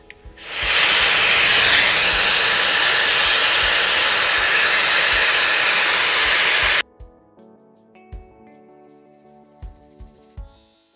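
A Dyson hair styler blows medium heat on hair in a loud, steady, close airflow rush lasting about six seconds, then switches off abruptly, leaving faint handling clicks and soft knocks.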